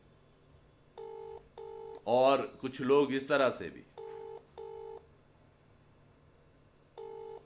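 Short bursts of telephone keypad tones, several evenly spaced beeps, broken by a stretch of a person talking in the middle, then one more beep near the end.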